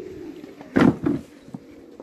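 A pigeon gives a couple of low, throaty coos close by, with fainter cooing trailing after in quiet surroundings.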